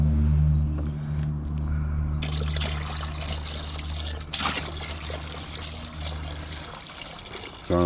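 Water trickling and pouring from a slightly tilted bucket, keeping the heavy sediment back while floating material spills out during gold recovery from flat packs; a steady close dribble over a low hum, with a brief louder splash midway.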